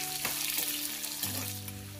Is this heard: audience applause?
no